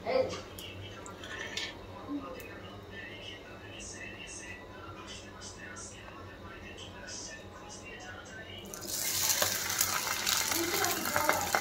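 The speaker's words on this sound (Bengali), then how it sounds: "আজকে পাউরুটি দিয়ে ডিম ভাজা খেতে মন গেল, তাই একটু ভেজে নিতেছি।" Egg with bread frying in a home pan, a soft steady sizzle with light clinks and scraping from stirring, swelling to a louder hiss near the end, with muffled talk and room noise in the background.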